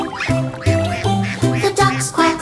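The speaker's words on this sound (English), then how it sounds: "The ducks quack softly" A small group of cartoon ducks in an animated nursery-rhyme song quack in loud, clear, nasal bursts, roughly five calls in a bouncy rhythm, up front and without speech.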